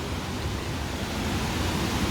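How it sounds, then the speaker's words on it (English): A rushing river at a Thailand getaway spot pours out a steady, dense roar of water, constant and full-bodied throughout with no voices over it. "I wouldn't really call this a waterfall as much as maybe it's more of a rushing river"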